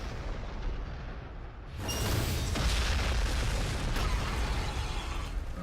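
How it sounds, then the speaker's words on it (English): Long-range artillery fire from the strategy game Warhammer 40,000: Gladius, a sudden broadband roar that erupts partway through, after a quieter rumbling stretch, then holds as a dense, sustained barrage with no talking. "Long-range artillery."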